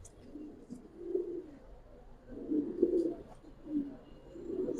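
Giribaz pigeons with Jabra Pankhi feathering coo softly while being handled, several low rounded calls rising and falling in a loose rhythm, close by with faint rustling.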